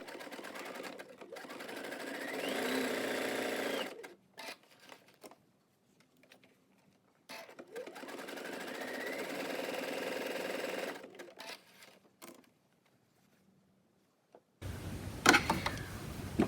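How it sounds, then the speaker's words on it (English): Two steady runs of a sewing machine sewing zigzag or buttonhole stitch lines on a pleated fabric face mask, each lasting a few seconds, separated by quiet handling clicks, with a brief rustle near the end. "So now switch your machine over to the zigzag or buttonhole and sew 2 lines"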